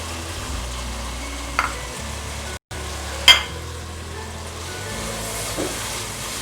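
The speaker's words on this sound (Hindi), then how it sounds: "वन टीस्पून साबित जीरा ऐड कर रहे हैं इसमें।" Whole cumin seeds sizzling in hot oil for vegetable rice, a steady soft hiss and crackle throughout, with a brief dropout, a couple of faint clinks, and no talk.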